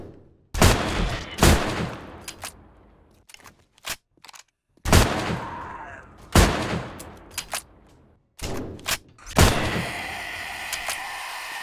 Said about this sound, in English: I'm definitely going to use a shotgun on you.